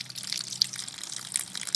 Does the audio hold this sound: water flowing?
yes